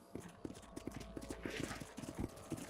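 Horse hooves clip-clop in the video game Red Dead Redemption, a steady, rhythmic run of hoof beats heard quietly at close range.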